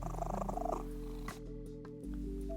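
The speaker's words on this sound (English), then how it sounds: "the kitty, who took to quietly purring" A kitten purrs softly and continuously, a low rumbling close by with faint tonal sounds in the background and no voices.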